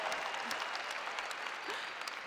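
Audience at a research presentation on sleep and epigenetics breaks into steady, dense applause, a sustained clatter of many hands clapping with light cheering, moderately near.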